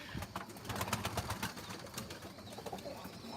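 Pigeons in a loft with young birds, soft cooing and rustling close by, continuous low bird sounds throughout with no talking.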